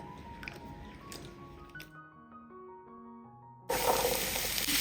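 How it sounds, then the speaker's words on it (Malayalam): Cut potato pieces are washed in water, first with soft wet squishing and sloshing under music, then a sudden loud burst of rushing, splashing water near the end. "ഒരു 2-3 വെള്ളം ഇതുപോലെ ഒന്ന് കഴുകിയെടുക്കണം."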